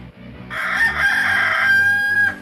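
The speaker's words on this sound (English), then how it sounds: "Rooster." A rooster crows once, a loud, close, drawn-out cock-a-doodle-doo lasting about two seconds over a faint low background hum.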